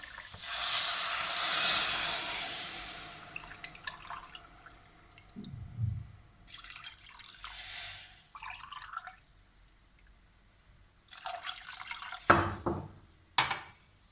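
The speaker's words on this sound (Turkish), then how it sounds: "şimdi içerisine 3 su bardağı su ilave ediyorum" Water streams and splashes into a pot of mushroom soup in a few separate pours, with a long hissing pour first and then shorter bursts, heard close with no talking.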